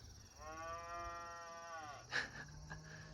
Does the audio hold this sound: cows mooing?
yes